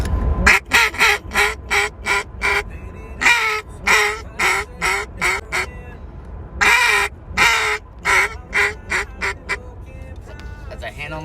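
A duck call imitates a contented hen duck on the water, giving loud, close, nasal quacks in quick groups of three to four, repeated several times with short pauses between sets.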